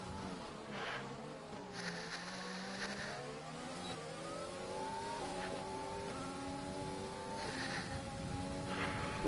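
A race car in a sim racing game accelerates hard through repeated upshifts, its engine pitch climbing steadily and loud throughout, with no speech.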